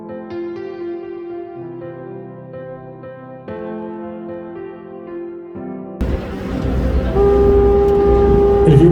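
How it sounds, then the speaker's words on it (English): A loud, sustained foghorn blast set off by VHF radio clicks on a cold Maine coast with lighthouses, a low steady drone rising over harmonic tones and persisting to the end. "set it to a certain channel, click it a couple times, pop the foghorn on"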